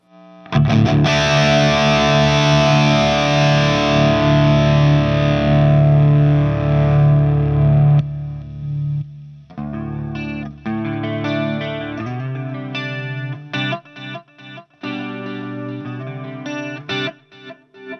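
Electric guitar through a Boss GT-100 multi-effects unit with distortion, delay and reverb: a long sustained distorted chord rings out, then a choppy run of shorter chords and notes trails with echoing repeats, loud and alone.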